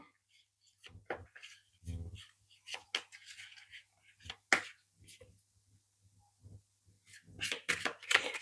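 Tarot cards being shuffled by hand, heard as a series of crisp, papery riffling bursts and soft flicks that come in irregular clusters, close and fairly quiet, with short pauses between them.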